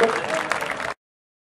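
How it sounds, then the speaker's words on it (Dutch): Audience applause for Paul Wassenaar at the Strongest Man of Friesland 2016 contest at the Flaeijelfeest: dense, steady clapping for about a second with voices mixed in, then an abrupt cut to silence. "Applaus voor Paul Wassenaar."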